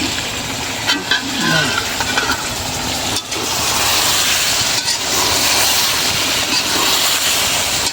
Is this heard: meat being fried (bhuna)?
yes